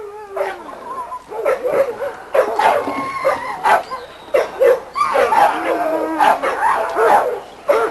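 Dogs in a kennel yard bark, yip and whimper in close, irregular bursts, several animals overlapping at loud volume, with a person's voice talking among them.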